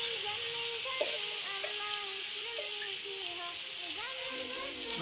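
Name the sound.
garlic and onion frying in a pan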